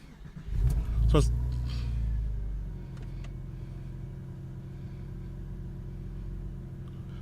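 A 1999 Porsche 911 Cabriolet engine cranks and catches with a loud burst, then settles into a steady, low idle rumble heard close up, with a brief spoken word near the start.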